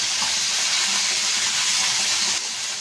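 Tomatoes and garlic-ginger paste hit a pan of frying potato, eggplant and adauri for an Indian sabzi, raising a loud, continuous sizzle and hiss that eases slightly near the end.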